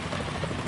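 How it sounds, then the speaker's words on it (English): Helicopter rotor chatter from the video game Metal Gear Solid 2, a steady, dense mechanical thrum that fills a short moment at moderate loudness with no talk over it. "Is that a chopper I just heard?"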